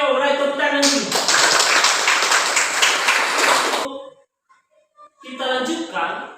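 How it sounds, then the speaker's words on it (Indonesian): A class of students claps together in a classroom during a teaching practice lesson, a dense burst of hand claps lasting about three seconds and cutting off sharply, followed by brief quiet and then a voice speaking. "tepuk tangan dulu"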